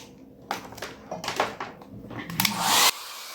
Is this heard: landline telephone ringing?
no